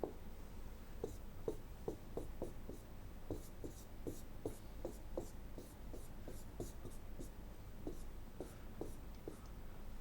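A marker or chalk scratches on a board during a structural analysis lecture, making a string of short, quiet, irregular strokes and taps over a soft room hiss.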